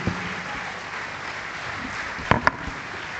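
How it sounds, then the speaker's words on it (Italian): Spectators at the 2024 Sardinian cycling celebration in Sennori give warm, sustained applause for Alberto 'Nino' Puddu, an even mass of clapping with a couple of louder knocks near the end. "con un applauso veramente molto, molto sentito"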